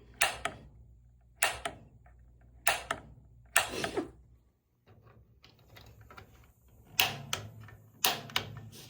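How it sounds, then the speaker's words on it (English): A water heater's pilot igniter clicks sharply at a steady pace, about one every second, with a short quiet gap midway, close up and fairly loud with no talking. "you just keep clicking that until you get your pilot."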